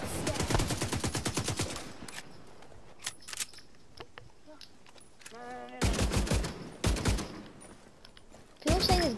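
Gun firing in The Division 2, rapid bursts of automatic fire in several separate volleys with pauses between, loud and close, with brief game effects in the gaps.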